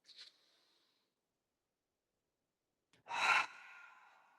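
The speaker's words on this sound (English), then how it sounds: "Breathe in, breathe out." Breaths during a mat pilates exercise: a short soft inhale, a long quiet pause, then a louder airy exhale trailing off, close and breathy with no talk.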